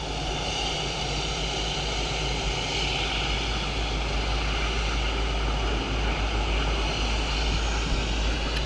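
A Boeing 777 airliner with big Rolls-Royce jet engines at Dublin Airport gives a steady, broad engine roar, sustained and moderately distant throughout with no voices over it.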